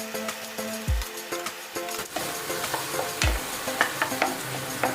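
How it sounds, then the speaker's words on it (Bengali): Chopped garlic frying in butter in a hot wok, a steady moderate sizzle with several distinct spatula knocks and scrapes against the pan. "এবার আমি দিয়ে দেবো রসুন কুচিগুলি।"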